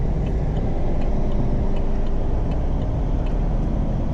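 Steady, loud engine drone from a 2024 Chevy Silverado Z71 Custom Trail Boss V8 pickup heard from inside the cab, a continuous low rumble and road roar that holds throughout with no talk.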